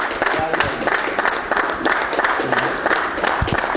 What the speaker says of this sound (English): Ladies and gentlemen, big round of applause for champion yet again, Mr. Ali Malou.